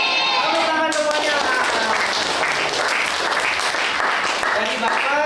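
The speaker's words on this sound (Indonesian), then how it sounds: "Tepuk tangan semuanya." A classroom of students bursts into loud, dense applause that carries on steadily for several seconds, with a teacher's voice heard briefly at the start and end.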